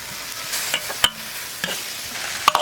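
Dried eggplant is tossed into a wok with stir-fried pork and garlic, giving a soft sizzle broken by sharp scrapes and clinks of a spatula against the pan.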